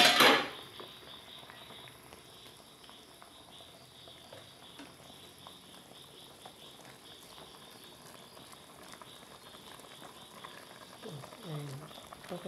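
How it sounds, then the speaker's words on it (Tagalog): A pot of pork sinigang soup at a steady rolling boil, with a soft continuous bubbling hiss and faint occasional clinks of a pot or utensil, heard close and quiet. "Yan, kumukulo na siya."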